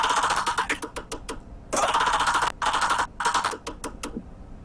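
A dubstep bass layer made in the Serum synth, gritty and phaser-swept, plays in rapid stuttering bursts with abrupt cut-offs and brief gaps, loud and alone.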